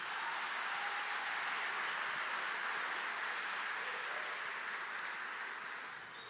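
A church congregation applauding strongly, a dense continuous wash of many hands clapping evenly throughout and fading a little at the close.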